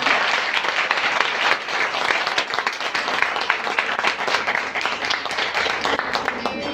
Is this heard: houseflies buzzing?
no